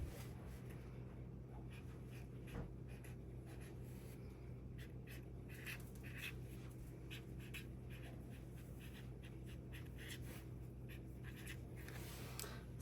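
Pen writing a message on a handmade fancy fold card, faint scratchy strokes in short bursts over a quiet steady background, close and without speech.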